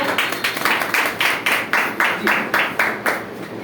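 An audience at a health product presentation claps in a rhythmic, evenly spaced beat, a moderately loud group of hands striking together in unison across several seconds.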